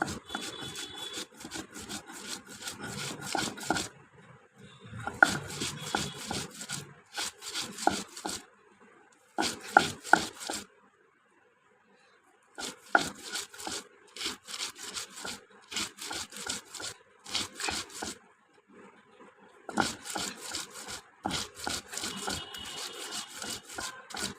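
Dried fish shutki bharta with chopped onion, coriander leaves, salt and fried green chillies mashed by hand, giving close, soft rubbing and squishing bursts in repeated rhythmic spells separated by short pauses.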